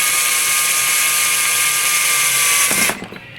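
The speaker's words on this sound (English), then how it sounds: "you get just a ribbon of whatever the metal is out of your drill bit" A sharp drill bit bores steadily into metal during an LED light project, a loud continuous high whine that holds for nearly three seconds before the bit stops and the sound drops away.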